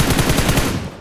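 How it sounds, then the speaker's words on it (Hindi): Rapid automatic gunfire in the mobile battle royale game BGMI, a dense, loud, evenly spaced burst of shots up close, fading at the very end. "मैंने वहाँ पे फायर किया लेकिन वहाँ पे कोई भी नहीं था"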